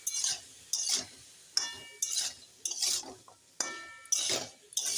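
A ladle stirs Malabar spinach curry with soybean in a pot, making a quiet, regular series of scraping strokes with light metallic clinks, about eight in five seconds, and no talking.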